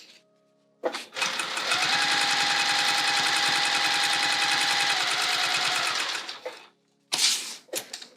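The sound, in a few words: sewing machine stitching vinyl bag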